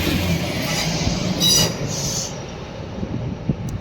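A train passing at a station rumbles steadily nearby, with shrill wheel squeals rising briefly in the middle before the noise eases into a lower rolling clatter.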